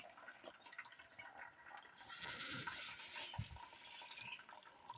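Cooked rice water pours and trickles from an upturned pot into the pot below, beside a wood-fired stove, a steady splashy stream that swells midway and then thins to dribbles.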